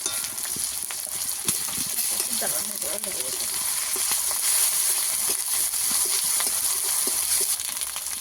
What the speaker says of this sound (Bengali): পেঁয়াজ আর টমেটো ভালো করে ভেজে নেব।